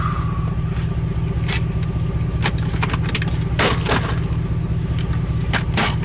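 A car with an LS4 engine idles steadily up close, a low continuous rumble with occasional clicks and rattles on top.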